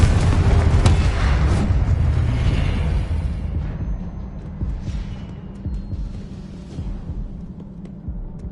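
A Confringo blasting spell erupts in Hogwarts Legacy, a loud booming explosion that rumbles heavily at first, then fades into a lingering low rumble.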